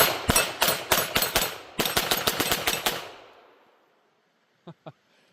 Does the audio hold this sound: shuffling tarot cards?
no